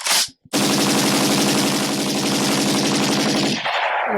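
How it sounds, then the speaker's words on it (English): A gunshot sound effect begins with a single sharp crack, then a sustained burst of rapid machine gun fire runs for about three seconds, loud and close, before cutting off. "Give us some gunshots too."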